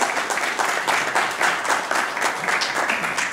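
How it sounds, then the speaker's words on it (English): Dense applause from a large audience at an SPE Astana Section distinguished lecture, steady and sustained throughout with no voices rising above it. "So please give a round of applause to Tengizchevroil and to Sammy Macary."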